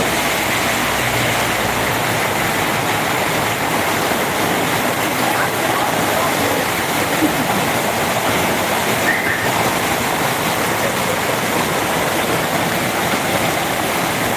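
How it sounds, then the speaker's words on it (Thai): Heavy rain pours down in Phu Khiao, Chaiyaphum, a loud, dense, unbroken roar of falling water that stays even and close for the whole stretch, with no voices over it. "ฝนตกหนักมากครับ"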